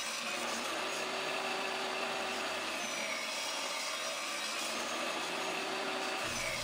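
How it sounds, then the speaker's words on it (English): Table saw with a crosscut sled cutting thin strips of wood, a steady whining blade roar that holds evenly throughout and sounds fairly distant. "got my table saw sled, and I put a little stop block up there"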